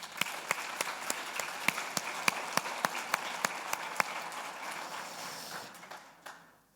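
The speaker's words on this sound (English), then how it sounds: "they deserve a big round of applause" A conference audience at DevOpsDays Portugal applauds, a steady wash of clapping with sharp regular claps on top, gradually thinning and fading out near the end.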